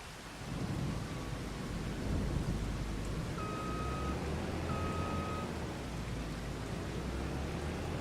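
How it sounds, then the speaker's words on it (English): Steady, heavy video game rainfall hisses with a low thunder rumble underneath, and a few thin electronic tones beep briefly midway. "Oh, we're raining."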